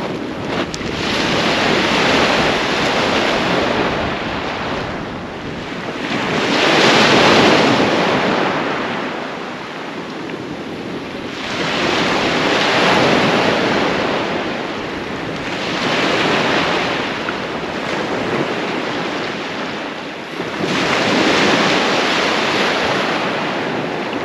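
Steady wind and breaking surf on the Holderness Coast at Hornsea North at dawn, rising and falling in slow swells every few seconds with constant rough wind noise against the microphone, no voices.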